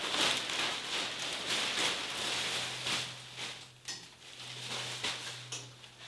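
A plastic paint tarp handled in a garage shop while small neodymium magnets hold it in place: continuous crinkly rustling and patters with a low steady hum underneath, with no talking.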